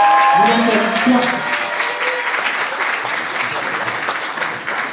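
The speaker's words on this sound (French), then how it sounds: "Merci à maximum d'applaudissements pour Bishwa et Jalani" Audience clapping for dancers at an Indian dance show, a steady applause wash throughout, with a brief voice speaking over the opening second.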